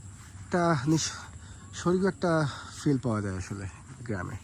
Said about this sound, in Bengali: মাঝে মাঝে পাখির কিচিরমিচির আওয়াজ